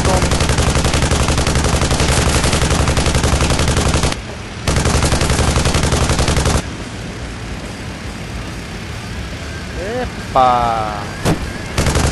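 Rapid gunfire from the Dog Fighter video game: dense, loud bursts that run continuously, break off briefly, resume, then drop to quieter game sounds while a voice gives a short exclamation.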